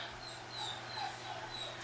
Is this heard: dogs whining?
yes